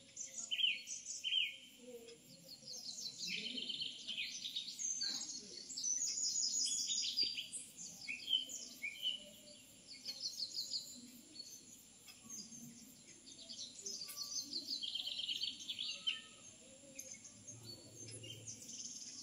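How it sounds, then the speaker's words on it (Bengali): Many birds of different kinds calling in an aviary at a wildlife sanctuary, with bursts of chirps and whistles and a steady layer of insects, all at moderate distance and fairly quiet. "বিভিন্ন রকমের বিভিন্ন জায়গার পাখি এখানে এনে রাখা হয়েছে।"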